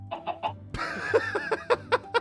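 Chicken in the Minecraft video game clucking in a run of short, evenly spaced bursts, loud and close, with a brief sharper squawk midway and no talk over it.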